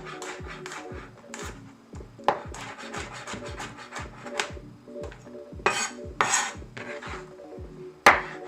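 A knife chops and minces garlic on a wooden cutting board, a rapid, steady run of close, sharp taps with brief scraping sweeps between bursts, loud and unaccompanied by talk.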